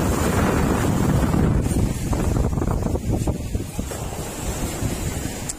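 Rough sea waves break at North Beach on Malapascua Island, a continuous loud surf wash buffeted by heavy wind noise on the microphone, no voices.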